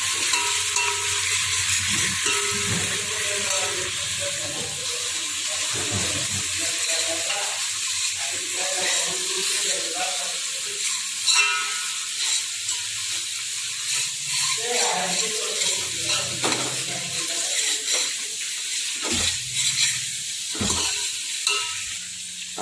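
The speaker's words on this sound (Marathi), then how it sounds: "हिरवी मिरची, दालचिनी, तमालपत्री सर्व टाकून आपल्याला चांगल्या पद्धतीने फ्राय करून घ्यायचं आहे." Whole spices with green chilli, cinnamon and bay leaves frying in a pan for a white mutton curry, a steady sizzle broken by scraping stirs and clinks of a spoon, with no speech.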